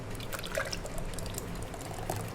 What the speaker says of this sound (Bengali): এটাকে আমি এই মালাইটার মধ্যেই ঢেলে দেবো।